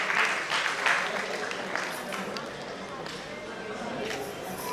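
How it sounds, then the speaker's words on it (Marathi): An audience at a student award ceremony claps loudly, with dense applause strongest at the start that thins slightly while someone speaks over it. "एकदा जोरदार टाळ्या."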